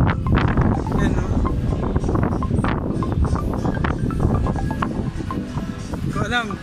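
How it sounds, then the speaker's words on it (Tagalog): Strong outdoor wind buffets the microphone in rumbling gusts, with someone talking over it and faint bird calls near the end. "Ang gulo, lakas ng hangin."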